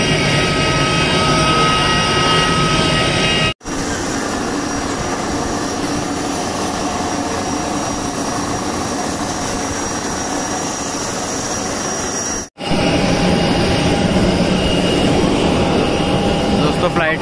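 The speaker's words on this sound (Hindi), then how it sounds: "इंजन काफी शोर कर रहा है" A constant, loud aircraft jet engine roar fills the scene, briefly cutting out twice before resuming at the same steady level.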